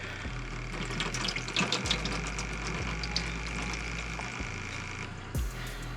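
A makeup brush rinsed in water in a spinning brush cleaner, with a steady close splash and rush of water over a low, even motor hum.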